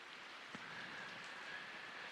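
Steady rain falls outdoors as a constant, even wash of drops on a surface, moderately quiet throughout with no talk.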